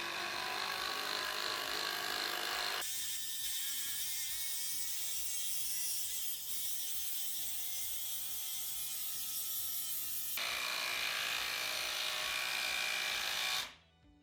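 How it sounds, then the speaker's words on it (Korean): An oil pulse driver sinks a 230mm wood screw, a steady, close mechanical whir with rapid ratcheting pulses that changes tone midway and runs continuously for over ten seconds before cutting off abruptly, with no talk over it. "230mm 우드 스크류 비교."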